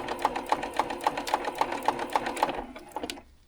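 A sewing machine runs steadily while stitching quilt blocks, its needle tapping in an even, rapid rhythm before slowing and stopping, close and clear with no talking.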